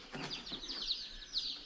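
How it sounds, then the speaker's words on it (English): Baby chicks chirp inside a shipping box, several quick high peeps overlapping, faint and muffled, with no talking. "I hear a bunch of chirps, so I would think quite a few of them made it."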